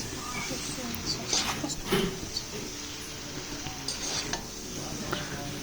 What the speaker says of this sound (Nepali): त्यसमा मैले सोया सस थोरै एड गरिदिएँ। एकछिन मजाले चलाउने मिक्स गर्ने।